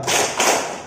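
Audience at an economic census training session in a hotel clapping hands together on cue, two close bursts of claps sounding near and loud, with no talk.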